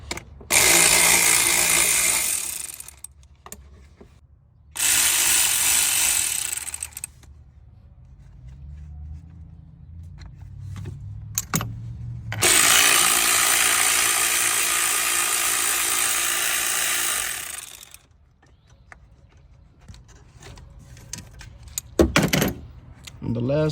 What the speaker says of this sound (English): I'm gonna start by taking off these bolts.